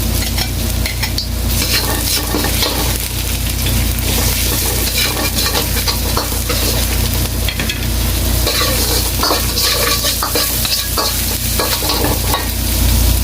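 Onion being stir-fried in a hot pan for fried rice after garlic, a loud, dense sizzle with constant spatula scraping and tossing, close and continuous throughout.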